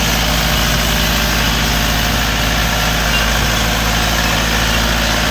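A heavy Dongfeng 404 tractor engine idles steadily at close range, a low, constant diesel rumble with a faint rattling vibration and no speech.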